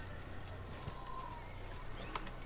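In the Assassin's Creed video game, a horse gallops with a rapid, rhythmic clip-clop of hooves. The sound is faint and low under a background hum, and voices talk briefly over it.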